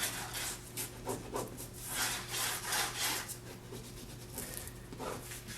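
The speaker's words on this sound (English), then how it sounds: "Now I'll rub this down all the way here." Close, steady rubbing on an old book being rebound, a hand working a tool back and forth along the spine and cover in repeated dry strokes over a low constant hum, with no talk.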